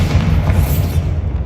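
A Bombarda spell detonates in Hogwarts Legacy: a loud, close, booming blast with heavy low rumble that rolls out and fades within about a second and a half.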